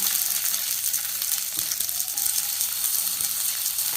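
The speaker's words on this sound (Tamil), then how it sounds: "4 பூண்டு பல், 5-6 வெங்காயம் எல்லாம் போட்டு நம்ம வதக்குறோம்" Garlic cloves and onions sauté in a pan for a vegetable white kurma, giving a dense, steady hiss and sizzle with faint scraping underneath, close and continuous, without talk.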